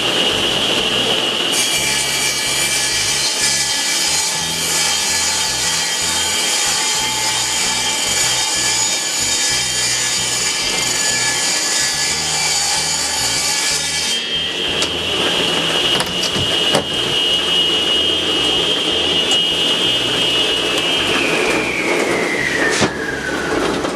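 Table saw ripping long wooden boards, a loud continuous blade whine and rasp of cutting that runs without pause, shifting pitch midway, then the motor winding down near the end.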